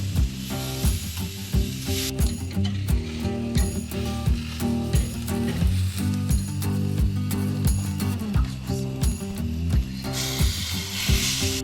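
A black garlic marinated ahi tuna steak sears on its second side with a continuous hot sizzle, partly masked by rhythmic background music playing throughout.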